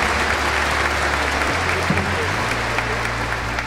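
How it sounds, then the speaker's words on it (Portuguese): Audience applause for a conductor of a municipal orchestra at a Christmas concert, a dense, steady wash of clapping with low sustained tones underneath. "e o maestro Lincoln Diego Espíndola, que eu peço uma salva de palmas a ele."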